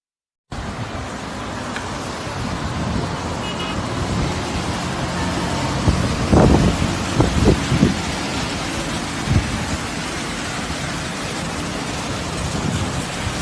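Heavy rain pours steadily during flooding in Kumasi, Ghana, a dense continuous roar with a few louder thuds and rumbles rising through the middle, and no talk.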